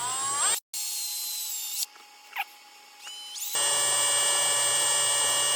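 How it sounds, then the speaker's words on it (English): A power drill on slow speed, prepping pinewood derby wheels, whirs with a high, steady tone, stops briefly, then spins up again and runs continuously at an even pitch. "drill down, and they want it on slow speed"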